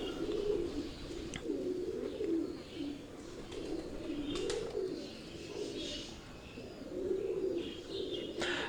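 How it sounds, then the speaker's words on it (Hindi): Soft, repeated cooing of pigeons in a breeding setup, several birds murmuring over one another in a steady rolling pattern, with faint chirps and a low background hum. "ये जो कबूतर आप देख रहे हैं"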